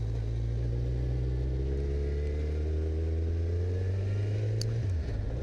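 A Kawasaki Z1000 motorcycle engine drones at a steady, loud idle-to-cruise pitch close to the rider, holding the same tone before dipping briefly near the end.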